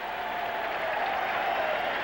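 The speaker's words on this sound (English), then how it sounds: "The wave is making its way around Shea, and a big, big crowd here tonight." A big night crowd at Shea Stadium during a Reds at Mets baseball game roars and cheers in a dense, sustained wash of noise while the wave circles the stands, with broadcast voices faintly underneath.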